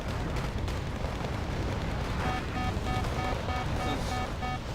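Mortar rounds land in the Wargame Red Dragon strategy game, a continuous dense rumble of blasts and debris filling the whole stretch, with thin tonal beeps cutting in near the end.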